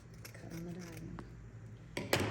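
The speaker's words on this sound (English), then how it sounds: "And cut on the diagonal." Scissors snipping through velvet or dupioni ribbon on a diagonal while a bow is being made: a few soft crisp cuts, with a louder close snip at the end, under quiet talk.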